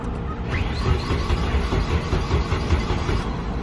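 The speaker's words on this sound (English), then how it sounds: "beautiful, it is cranking" A Nissan 200SX B14 turbo engine cranks over on the starter, a rapid, even churning rhythm that stays close and steady for several seconds without catching.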